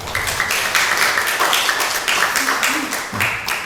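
A church congregation claps after a prayer, a short burst of steady applause with a voice faintly underneath.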